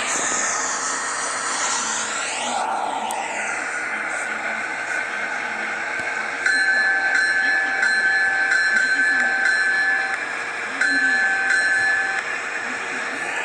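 A train runs at full speed in a train simulator video game, a continuous rumbling engine drone with whining tonal hums that rise and hold, loud and steady throughout.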